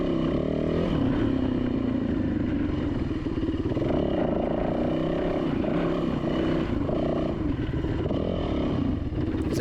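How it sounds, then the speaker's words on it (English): A helicopter passes overhead above a narrow trail on Barren Ridge, its rotor throbbing in a loud, steady pulse with a heavy engine drone that fills the whole stretch. "Helicopter flew right overhead."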